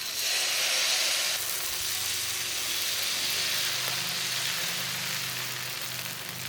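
Oil sizzles on a hot griddle stone before ragi dosa batter goes on, a steady hiss that fades slightly and carries a light crackle underneath, with no voices.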